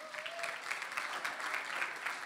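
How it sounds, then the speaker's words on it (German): Steady audience applause at the Miss Kärnten pageant finale, many hands clapping densely and evenly throughout, moderately loud with no pauses. "Es ist auch sehr, sehr wichtig, dass Sie klatschen und dass Sie gute Stimmung vermitteln"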